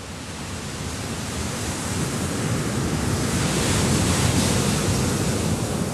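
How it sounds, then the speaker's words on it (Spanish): AI-generated ocean surf plays on its own as a steady, broad wash of crashing waves and rushing water. It builds slightly louder partway through and then holds a constant roar. "tendríamos un oleaje que ha hecho la inteligencia artificial"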